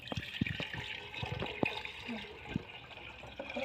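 Water is poured into a fish bowl being refilled after washing. A steady splashing trickle runs throughout, close and moderately loud, punctuated by small clinks and knocks.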